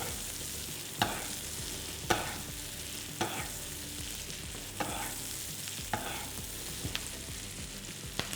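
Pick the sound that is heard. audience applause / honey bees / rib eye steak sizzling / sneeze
rib eye steak sizzling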